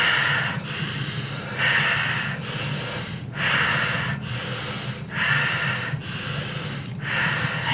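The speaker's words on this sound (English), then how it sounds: "Five more breaths" Deep, forceful rhythmic breaths during a breathwork session, roughly six cycles of loud close inhales and exhales at a steady pace, no speech.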